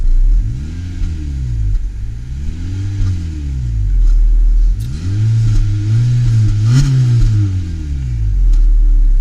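A 2016 Honda Civic's exhaust rises and falls through several rev blips, each a swelling mid-pitched engine note that climbs and drops back, close and fairly loud, with a longer, higher rev near the end and no voices.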